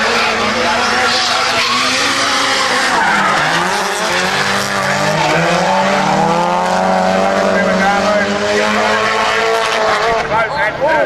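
Race cars drifting sideways at a time attack event, tires squealing in long sustained skids over loud engine roar, with a commentator talking throughout.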